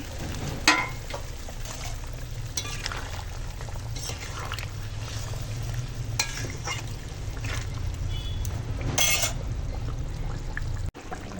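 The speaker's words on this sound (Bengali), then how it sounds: "দেখো এখন ঝোল ফুটছে আর এই ভেজে রাখা মাছ" Thin Bengali fish curry broth seasoned with ground cumin bubbles and sizzles steadily in a pot as pre-fried fish pieces go in, a continuous close simmering hiss with a few brief splashes and clatters.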